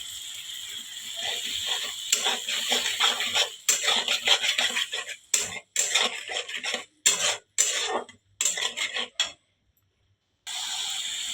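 Chicken leg pieces and other meat pieces go into a pot of spices frying in oil, making a near clatter and hiss in busy irregular bursts, then a brief silence before the sizzle returns.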